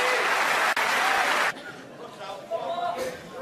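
A snooker crowd at the 2021 World Championship final bursts into loud applause and cheering for Shaun Murphy, then drops to softer clapping and murmuring chatter.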